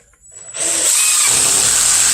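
A power drill drives a screw through a metal hinge into a wooden storage shed door, starting with a short whir and then settling into a loud, steady high-pitched motor whine close by.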